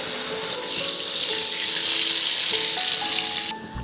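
Onion, tomato, ginger and garlic paste with cumin frying in a pan, a steady close, bright hissing sizzle that fills the whole stretch and eases slightly at the end.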